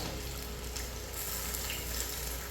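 Banana fritters (pazhampori) sizzle in hot oil in a home kitchen, a steady close crackling fry with faint popping and no voices.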